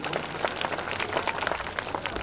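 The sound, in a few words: audience applause for prize-winning child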